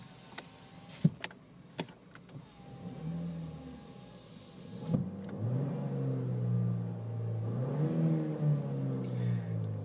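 A 2011 Chevrolet Cruze Eco with a six-speed manual gearbox has its engine revving, a low steady drone that swells and wavers through the second half, with a few sharp clicks near the start and no talking.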